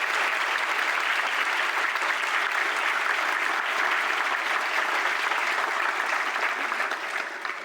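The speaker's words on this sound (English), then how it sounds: "Please join me for a round of applause for these outstanding students" A large audience at the Alfred University Honors Convocation 2025 claps loudly and steadily for several seconds, a dense wash of applause that tapers off slightly at the end.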